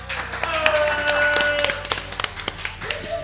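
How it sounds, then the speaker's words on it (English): Scattered hand claps from a small group, applauding DJs at a hardcore music show, sharp and irregular over faint music and tonal background sounds, with a few louder claps standing out. "Need a round of applause."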